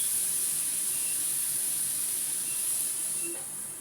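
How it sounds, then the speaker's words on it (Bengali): Pointed gourd and spiny gourd sizzling together in hot oil in a pan, a steady, bright hiss holding level throughout and easing slightly at the end, with no voices. "তেলের মধ্যে পটল আর কাঁকরোল এ দুটো দিয়ে দিয়েছি"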